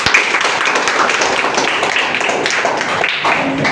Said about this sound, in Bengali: সবাই হাততালি দেবে